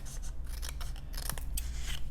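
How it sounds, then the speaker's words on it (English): A pair of scissors cuts across a pamphlet book cover in close, rasping snips that run continuously for about two seconds, with no talking. "I'll use a pair of scissors, and I'm just going to cut across the cover,"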